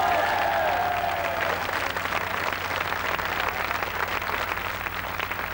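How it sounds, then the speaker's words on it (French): An audience at a French TV carnival show applauds performer Paul Prébois, with loud, sustained, dense clapping from a crowd that fills the whole stretch and swells slightly as it goes. "Paul Prébois, applaudissez-le encore une fois."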